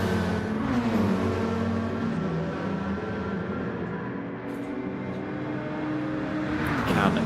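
GT3 race cars, including a BMW, roar down the Conrod Straight at Mount Panorama, Bathurst in a racing game, a sustained loud engine drone with shifting pitch and no pauses.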